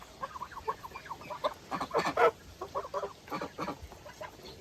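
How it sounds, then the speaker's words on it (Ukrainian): Domestic geese and other farmyard fowl on a small homestead give a run of close, repeated honking and clucking calls in irregular bursts, loudest around the middle, with no talk over them. "Ось гуска. Ось ще одна гуска."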